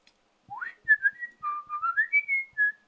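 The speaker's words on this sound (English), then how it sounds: "No one wants to hear a guy whistling on a stream." A man whistles a short tune close up, a sequence of clear melodic notes rising and gliding in a loose rhythm, heard alone against silence.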